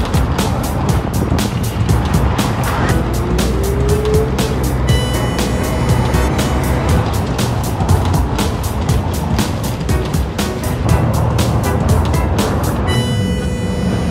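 Steady, loud traffic noise from cars driving through a busy Paris roundabout, a continuous dense rumble of engines and tyres close by with no clear pauses.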